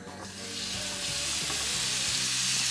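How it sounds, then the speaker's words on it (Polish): Chicken drops into a hot pan of olive oil and sets off a loud, close sizzle. The sizzle builds quickly and then holds as a strong, steady crackle to the end, with no talk. "Kurczaczka przełożę teraz na rozgrzaną patelnię."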